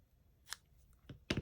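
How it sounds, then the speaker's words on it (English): A few quick, faint snips of scissors cut through paper while a star luminary bag is crafted, ending in one louder, crisp cut. "Okay, so I'm gonna snip that now."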